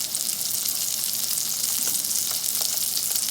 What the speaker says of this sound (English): And now I am going to attempt to cook the edges.